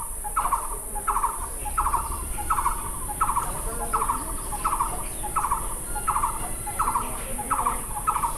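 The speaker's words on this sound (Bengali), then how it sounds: "আওয়াজ দেখুন কি সুন্দর পাখির ডাক চারিপাশে" Regular bird calls repeat about every half second around a village temple ringed by trees and bamboo, a steady rhythmic series of moderately loud calls over a constant high-pitched insect-like hiss.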